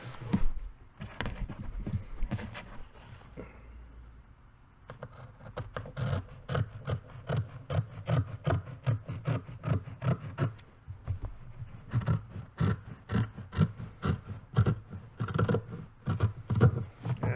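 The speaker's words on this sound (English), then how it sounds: "So now I take my scissors." Scissors cutting through a board for a board-in-a-bag craft, a close series of rapid crisp snips and scraping strokes that pause briefly near the start and then continue in quick bursts.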